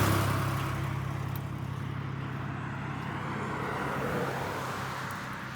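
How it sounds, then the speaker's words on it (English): Road traffic passes along a road near a mobile home on a cold, sunny day: a steady engine and tire rumble, fairly near and continuous, easing slightly as the vehicle goes by. "Here comes some traffic"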